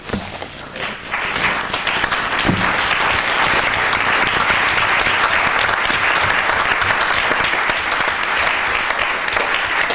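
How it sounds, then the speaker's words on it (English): A large audience claps steadily and loudly for two men honored for 50 years of service, the dense applause building after a brief dip and holding for several seconds. "I think for 50 years you can stand up and clap"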